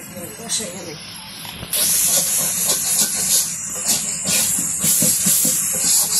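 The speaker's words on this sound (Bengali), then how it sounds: "তো মশলাটা কষাই নিতেছে, তারপরে মাংস দিয়ে দিব।" A spice paste with garam masala fries in a pan for a village-style chicken curry. After a quieter start, a loud hiss suddenly erupts, and a steady sizzle continues with stirring scrapes and faint voices underneath.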